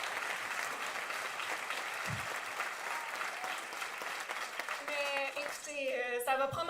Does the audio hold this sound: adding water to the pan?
no